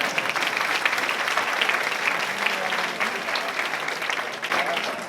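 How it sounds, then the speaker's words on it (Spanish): A crowd at a public talk bursts into dense, sustained applause, many hands clapping continuously at an even, fairly loud level throughout. "Pues aplauso."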